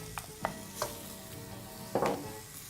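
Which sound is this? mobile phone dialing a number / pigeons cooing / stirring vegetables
stirring vegetables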